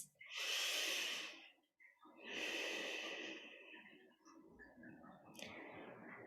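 Deep, slow breathing during a yoga session: long, audible inhales and exhales repeated close to the microphone, fairly soft overall.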